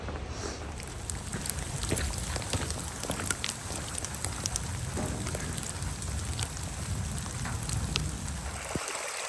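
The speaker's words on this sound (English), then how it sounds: "It must be raining quite hard up top because there's so much water coming downhill" Steady heavy rain with a dense, hissing wash of water running downhill in the Pyrenees mountains, loud and continuous, with scattered drip and splash details throughout.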